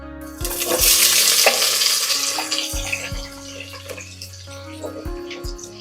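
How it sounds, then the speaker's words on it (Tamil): Onions frying in a pan with cinnamon, cardamom and cloves for prawn biryani, a steady close hiss and sizzle with occasional stirring knocks throughout. "இப்போ வந்து இந்த வெங்காயம் வந்து நல்லா கோல்டன் ப்ரௌன் வர வரைக்கும் நல்லா ஃப்ரை பண்ணணும்."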